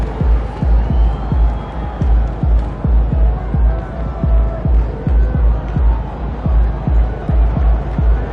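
A basketball arena crowd in the NBA 2K video game swells in a loud, steady roar, overlaid by a rhythmic throbbing thump that repeats about twice per second, like chanting or stomping.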